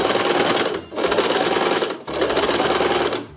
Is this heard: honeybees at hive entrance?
no